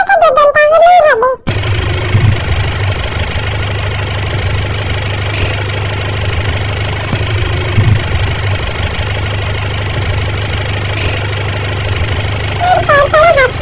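A toto electric rickshaw runs steadily with a constant mechanical hum and road rumble close by, under occasional voices and brief music at the start and end.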